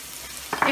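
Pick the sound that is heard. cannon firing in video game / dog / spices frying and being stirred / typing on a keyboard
spices frying and being stirred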